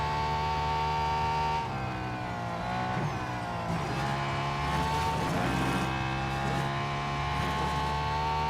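Race car in the mobile racing game Real Racing 3, engine droning steadily with rising and falling revs as the car corners and brakes, continuous and fairly loud.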